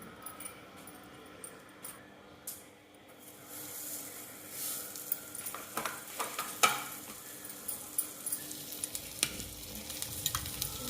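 Semolina-coated fish fries in coconut oil on a tawa, giving a faint, steady sizzle with scattered soft crackles and light taps, growing a little busier toward the end; no voices.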